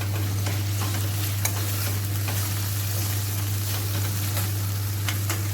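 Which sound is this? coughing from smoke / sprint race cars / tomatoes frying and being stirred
tomatoes frying and being stirred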